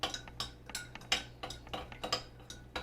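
Vegetables being stirred in a pot give off soft, rhythmic clinks of a utensil against the metal, repeating evenly and quietly with no voices.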